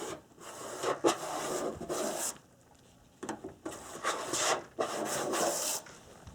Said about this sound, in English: The wet sanding is complete.